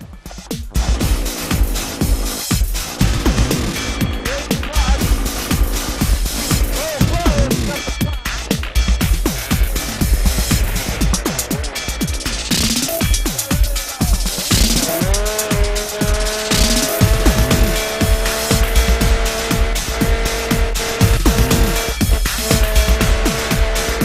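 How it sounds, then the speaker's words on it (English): A chainsaw-powered Lewis Winch runs at full throttle as it pulls an overturned Ford van back upright, giving a continuous, buzzing small-engine drone that holds steady and rises in pitch in the later part. "So we're going to fire up the saw, and off we'll go."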